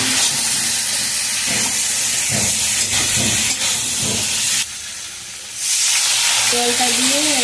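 Shankar fish curry with potatoes bubbling in a pot, a steady close sizzle and hiss with soft stirring knocks, briefly dipping quieter before the simmering noise returns.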